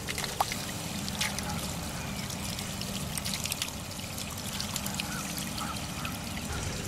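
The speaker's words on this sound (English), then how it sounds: "I'm going to hold that float up and let that water drain away." Water drains steadily from a Thrifty King automatic livestock waterer with the float held up, a continuous trickling, pouring flow heard up close and alone.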